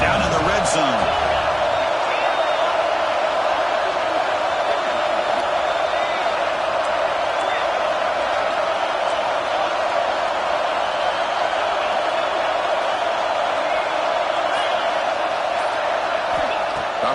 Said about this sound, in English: the crowd coming to life here, trying to help this defense down in the red zone